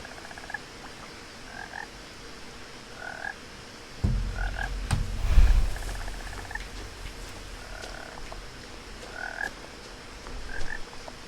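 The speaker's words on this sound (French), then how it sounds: "la grenouille là dans les oreilles" A frog in the video game What Remains of Edith Finch croaks in short, evenly spaced bursts roughly every second or two, close and clear over a low ambient hum with a few brief thumps.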